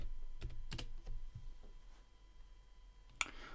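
Quick bursts of keystrokes on a computer keyboard as a password is entered on a Linux system, a cluster of close, crisp clicks followed by a pause and a final sharp key press.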